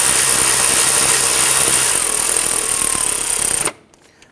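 A power tool, likely an impact driver, snugs down the starter bolts on a 2011-2015 Kia Sorento in one loud, continuous rattling whir that stops abruptly, followed by near silence.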